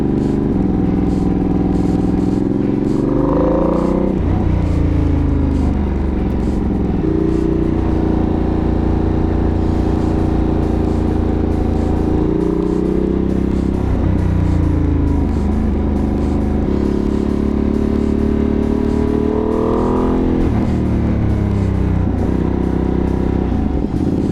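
2025 Ducati Panigale V2S on a test ride, its engine revving loud and close, climbing through the gears with quick-shifter upshifts and falling back several times over a constant rush of wind.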